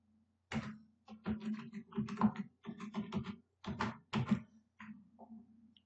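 Typing on a computer keyboard while entering a label into an Excel sheet: bursts of close, crisp keystrokes in quick irregular runs, pausing between words, with no voice over them.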